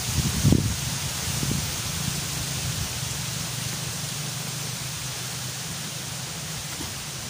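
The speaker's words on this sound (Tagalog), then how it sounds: "Lakas ang hangin guys oh." Steady, broad rushing of strong wind through banana and bitter gourd foliage, a constant airy roar with a brief gust near the start and no speech.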